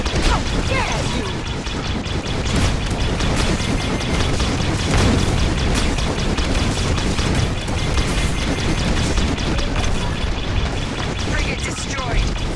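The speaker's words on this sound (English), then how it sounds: "Frigate destroyed." A space frigate being destroyed in a video game: loud, continuous crashing booms and explosions with layered mechanical impacts and a voice talking over the din.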